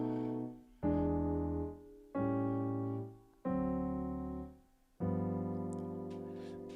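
Piano tritones played one after another, descending chromatically, five sustained two-note chords struck at a slow even pace, each ringing and fading before the next, quiet and close.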